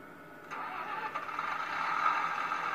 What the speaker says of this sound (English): engine powers up